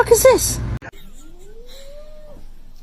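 A cat lets out one long, rising and falling meow, clear and close, that lasts about a second and a half. It follows brief excited talking and a sharp thump.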